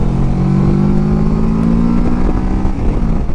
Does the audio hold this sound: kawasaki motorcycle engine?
yes